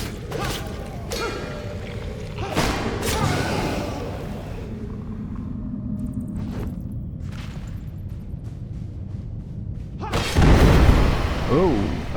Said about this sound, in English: Oh, okay, that was an exploding barrel.